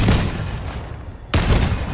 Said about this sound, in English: Are all three cannons firing?